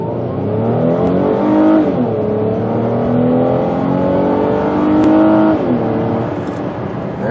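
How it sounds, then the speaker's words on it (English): A 2007 Lincoln MKZ with a 3.5L V6 and front-wheel drive accelerates hard from a standstill toward 60 mph, its engine climbing steadily through the revs with audible gear shifts, loud and close from inside the car. "We'll see if that improves our traction on the tires and gets us up to 60 a little bit quicker."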